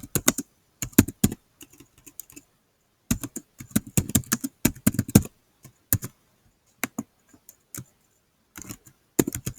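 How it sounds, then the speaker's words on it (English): Someone types an email on a computer keyboard, producing quick clusters of crisp key clicks separated by short silent pauses, close and fairly quiet, with no voices. "I can type in an email"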